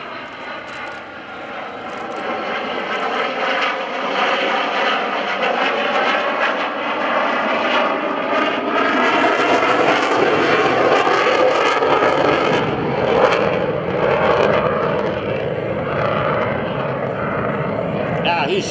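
An F/A-18C Hornet jet roars at full thrust during an airshow demonstration, a loud sustained engine roar that swells and holds, with a commentator speaking over it.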